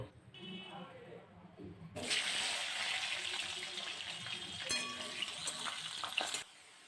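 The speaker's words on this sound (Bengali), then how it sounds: "প্রথমে কড়াতে সর্ষের তেলে একটু আলু আর বেগুনটা ভাজা করে নেব।" Potato and eggplant frying in mustard oil in a wok: after a quiet start, a loud, steady sizzle breaks in suddenly, with a few scrapes partway through, then cuts off near the end.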